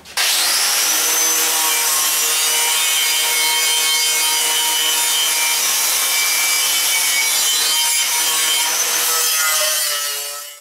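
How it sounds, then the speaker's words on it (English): Angle grinder with a knotted wire wheel strips old finish off a Cub Cadet part, a loud, continuous high whine with harsh scraping that holds steady for about ten seconds before spinning down. "I'm just using this angle grinder with a knotted wire wheel on it"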